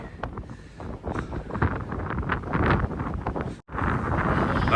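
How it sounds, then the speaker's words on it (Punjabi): Strong wind batters the microphone on a ferry deck in loud, uneven gusts with a low roar, cutting out briefly near the end before resuming. "ਬੜੀ ਤੇਜ਼ ਹਵਾ ਯਾਰ"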